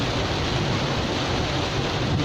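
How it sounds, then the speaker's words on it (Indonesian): Afternoon rain in Jakarta falls as a dense, continuous hiss, steady and fairly loud throughout, with no other sounds standing out. "Setiap sore dipastikan"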